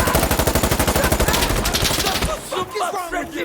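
Rapid automatic gunfire in the Insurgency Sandstorm shooter game, a fast, even burst of loud close shots lasting about two seconds before cutting off into quieter scattered sounds.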